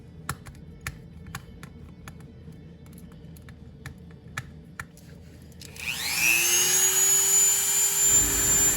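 A Dremel rotary tool enlarging a screw hole in a Dollar Tree craft piece starts after a few light taps and spins up into a loud, high, steady whine close by.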